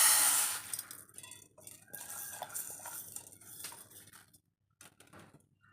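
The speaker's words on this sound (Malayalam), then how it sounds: "തോരൻ വയ്ക്കാനായിട്ട് നമുക്ക് ഈ മുതിരയൊന്ന് വറുത്തെടുക്കാം." Horse gram dry-roasting in a pan while being stirred, giving rattling, clinking and scraping that is busiest at first and thins out to near silence toward the end.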